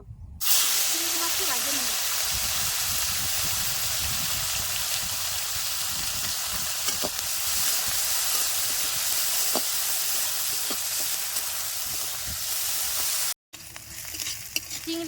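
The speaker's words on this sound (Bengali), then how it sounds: "মাছটি আমার সুন্দর লাল লাল করে ভাজা হয়ে গেছে এখন আমি এই প্লেটের মধ্যে উঠাই নেব" Shrimp fry in mustard oil in a pan for a village-style Bengali chorchori, giving a steady close hissing sizzle with faint crackles, briefly cutting out near the end.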